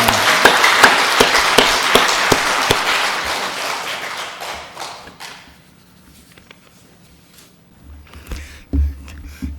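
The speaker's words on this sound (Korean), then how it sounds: "박수합니다." A church congregation claps together in a burst of applause that swells, then fades after about five seconds into quiet shuffling and a few soft thumps.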